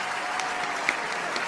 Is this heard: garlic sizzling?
no